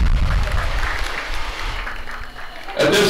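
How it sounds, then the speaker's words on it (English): Crowd applause at a lacrosse game for the evening's officials, a steady wash of clapping from a distant audience under a loudspeaker voice, with a louder burst at the end. "Let's give them a round of applause, folks."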